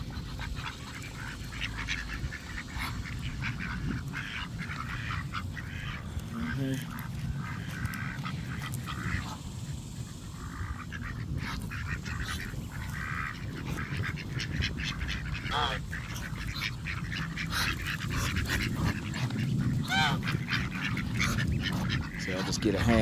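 Mallard ducks quack repeatedly while being fed outdoors, a busy mix of calls over steady background noise, with someone talking nearby throughout.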